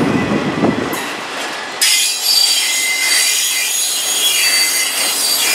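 A long Norfolk Southern freight train with autorack cars, including ex-Conrail equipment, rolling past at close range in Spartanburg, South Carolina, its wheels giving a loud, sustained metallic squeal that wavers in pitch after a low rumble at the start.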